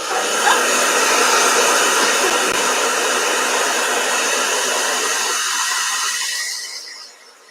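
A hair dryer blows steadily and loudly to dry watercolor paint, a continuous whooshing hum that holds for several seconds and then cuts off and winds down at the end.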